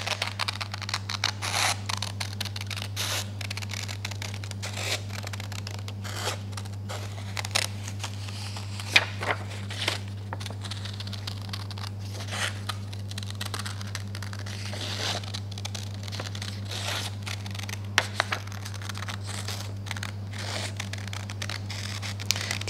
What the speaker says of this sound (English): what I'm going to do now is I'm going to cut it out